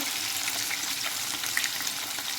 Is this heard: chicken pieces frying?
yes